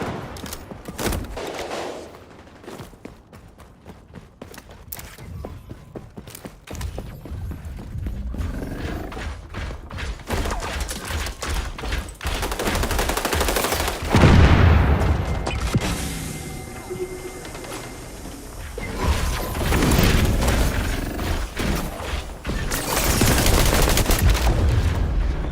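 Rapid gunfire and loud weapon shots from the online shooter game Dirty Bomb, including sniper rifle fire on an escort mission, ring out in dense bursts with booming impacts throughout, loud and continuous with no talking.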